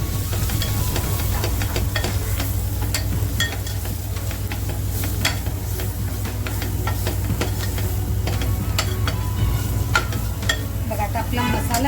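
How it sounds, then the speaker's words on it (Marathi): Minced mutton keema frying in a pan with homemade masala, a loud dense sizzle with frequent crackles and stirring scrapes running continuously throughout. "सुद्धा आपल्याला आता छान फ्राय करून घ्यायचा आहे"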